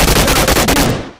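A rapid automatic burst of gunfire from the PUBG Mobile video game, loud and close, a quick rattling string of shots that fades out at the end.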